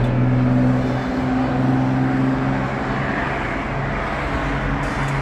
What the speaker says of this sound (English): I think that was an NSX.